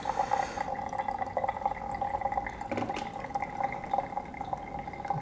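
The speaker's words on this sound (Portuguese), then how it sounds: "não sei se você está conseguindo ouvir o barulho, mas já está caindo bem mais café" Filter coffee trickles and drips steadily from the filter into the pot while brewing, a faint, close, continuous patter with a brief stronger splash near the middle and no voices.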